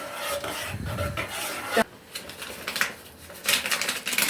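A utensil scrapes and swishes around a bowl of tomato-basil sauce with garlic, salt and sugar in uneven strokes, a close, rasping stirring sound.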